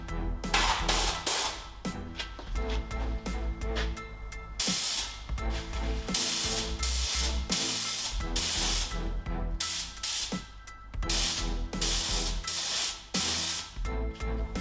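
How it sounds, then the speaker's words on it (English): Spray gun hissing in repeated bursts as red paint coats small brake caliper parts, loud close blasts separated by brief pauses. "now it's time to ready the spray gun. First coat, here we go"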